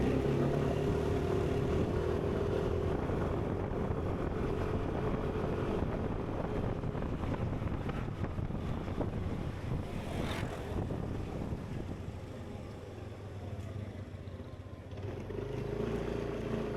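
A car drives along a road in Bukittinggi toward a petrol station, its steady engine and road rumble mixed with wind buffeting against the microphone, continuous and fairly loud throughout.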